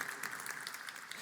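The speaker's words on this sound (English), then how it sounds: "please, a round of applause for her." A conference audience applauds steadily for a baby attending her first conference, a sustained wash of clapping at moderate distance, fairly faint and even throughout.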